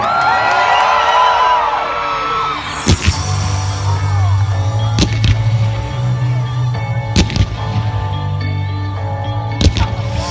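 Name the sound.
crowd screaming and cheering at fireworks show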